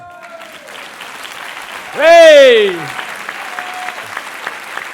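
Audience applause at an event in Toulouse runs steadily under a loud shouted exclamation, with the clapping continuing at moderate level around the voice.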